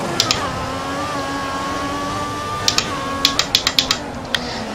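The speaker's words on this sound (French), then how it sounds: "le bruit des palettes au volant" Sharp plastic clicks from the paddle shifters on a sim racing steering wheel, a few scattered taps then a quick burst of five or six, heard over a steady engine drone from an F1 2014 racing game.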